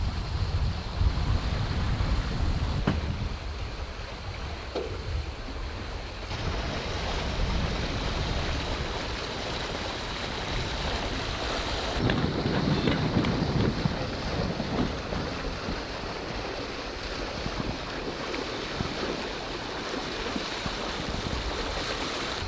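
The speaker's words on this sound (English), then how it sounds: "Still got the wind from the south, fairly strong." Strong south wind buffets a sailboat under way at around six knots, a constant broadband rush of wind against the microphone mixed with water swishing along the hull, steady and loud throughout.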